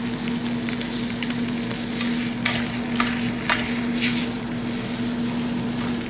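A rib eye steak on the bone sizzles on a grill as a steady, even hiss with a low hum underneath and a few faint crackles, close and continuous.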